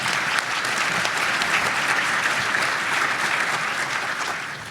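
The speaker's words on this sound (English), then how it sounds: "Let's give them one more big round of applause." Audience at an economic forecast event giving a big round of applause for the panelists, dense and sustained clapping at steady loudness, easing slightly at the close.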